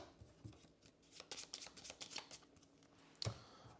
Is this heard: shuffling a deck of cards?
yes